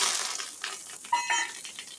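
Mustard seeds and curry leaves tempering in hot oil in a thick pan give a fine, steady crackling sizzle, with scattered sharp pops and spatters rising near its end.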